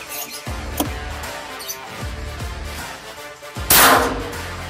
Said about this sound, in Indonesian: tembakan ketiga sekarang.